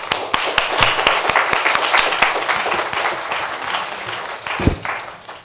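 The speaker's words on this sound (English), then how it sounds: "I'd like to give them a round of applause." Audience applause for a conference panel: scattered individual claps ring out over a softer crowd clapping, fairly close and thinning toward the end, with no talking.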